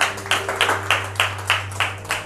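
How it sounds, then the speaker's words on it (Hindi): A group claps hands together at a church gathering, giving about eight even, rhythmic claps in a row over a low steady hum, with no talk. "ताली बजाएंगे"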